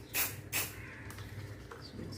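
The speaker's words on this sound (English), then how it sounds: "So we keep the spray at a distance and then we spray off." A glass jar is spray painted with short aerosol bursts, two quick close hisses followed by a fainter spurt, over a low background hum.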